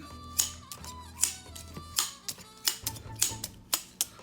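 A Jacquard meat tenderizer punches into picnic pork shoulder, giving a quick irregular series of about a dozen sharp close clicks and clacks.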